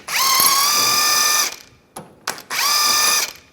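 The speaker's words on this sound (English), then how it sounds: "Now we'll take this nut off. Just gonna hold the inner tie rod in and use a 24mm socket." A power tool with a 24mm socket spins a nut off an inner tie rod on a 2004-2010 BMW X3, a loud whirring run, a brief pause with short bursts, then another sustained whine.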